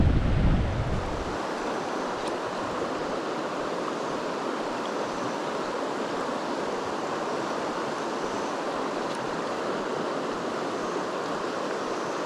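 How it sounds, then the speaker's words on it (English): Wind buffets the microphone beside a high-water river during a fly-fishing outing: a loud, steady broadband rush that never lets up, with no talk. "So let's let this wind calm down"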